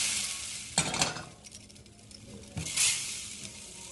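Shrimp scampi sauce with lemon bubbles and reduces in a pan, a quiet simmering hiss broken by two brief louder bursts of sizzling and stirring.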